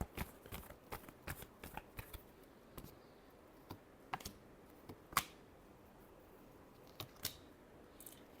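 Tarot cards are shuffled in quiet bursts of crisp riffling and tapping, with irregular sharp clicks and flutters close by against a near-silent background.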